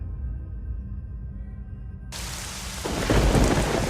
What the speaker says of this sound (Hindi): बहुत तेज बारिश हो रही थी